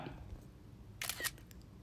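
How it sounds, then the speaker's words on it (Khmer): An iPhone screenshot shutter sound, a short, crisp camera-click burst that rises out of a quiet, low room hum. "ថតអេក្រង់ទៅធៀបមើលបាទ"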